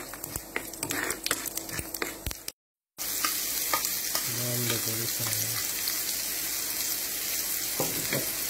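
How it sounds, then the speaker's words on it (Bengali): Onions fry slowly in a biryani pot along with bay leaf, dried chillies, cumin and whole spices, a steady close sizzle with spoon clinks early, a brief silent gap, then continuous frying crackle. "পেঁয়াজগুলো ধীরে ধীরে ভেজে নেবেন।"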